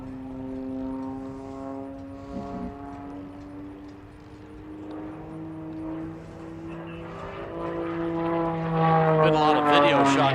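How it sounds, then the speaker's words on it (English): A propeller aerobatic airplane at an air show snap rolls into a knife-edge slide, its engine droning with a steady pitch that sweeps and climbs louder toward the end, heard from the ground over crowd noise. "Snap rolling to the knife edge slide."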